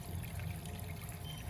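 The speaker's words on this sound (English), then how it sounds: "I'll take my water bottle and squirt the sides down with" A faint, brief hiss and trickle as distilled water is squirted from a wash bottle down the glass sides of a beaker, quiet and steady.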